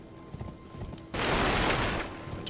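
Torrent, the summoned spectral steed in Elden Ring, appears after a few soft hoof taps with a sudden loud rushing whoosh that holds for about a second and then fades into quieter hoofbeats.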